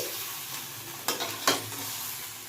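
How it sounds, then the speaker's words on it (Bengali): Potatoes coated in spices frying in a pan for aloo dum, a steady close sizzle broken by two brief scraping stirs of the spatula. "এরকম ভালোভাবে কিছুক্ষণ কষিয়ে নেবে"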